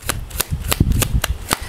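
A deck of tarot cards is shuffled by hand in quick riffling bursts, a crisp flutter of cards repeating about every third of a second, close and fairly loud with no talking.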